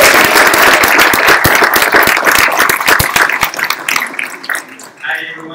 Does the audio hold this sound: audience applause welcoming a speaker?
yes